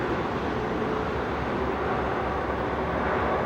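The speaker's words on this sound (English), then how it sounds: "There's a little train going by." A train passing by in the hilly La Mancha countryside of Spain, heard as a steady low rumble and rolling drone at even loudness from start to end, with no voices.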